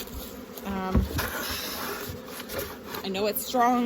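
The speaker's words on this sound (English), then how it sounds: "Now this is my mean hive." Honey bees from a strong, feisty hive buzz around an opened farm hive, a constant close droning hum, while a person speaks briefly over it.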